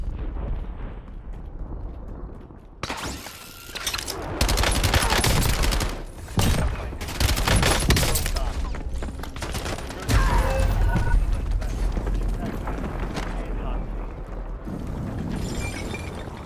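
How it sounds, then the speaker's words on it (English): Heavy gunfire in a squad-based shooter video game: dense bursts of rapid shots and blasts start abruptly after a quieter stretch, then continue in loud, sustained volleys with short gaps, with game voices occasionally underneath. "Taking fire."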